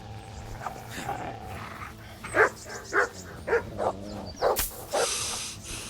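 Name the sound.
dog barking in Kingdom Come: Deliverance video game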